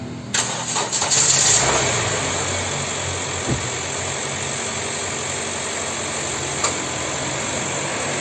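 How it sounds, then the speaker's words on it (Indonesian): A car that had sat unused for several days is jump-started with a power bank jump starter. It cranks briefly, catches, then settles into a steady close idle, with a couple of small clicks later; no talking. "mobilnya langsung menyala"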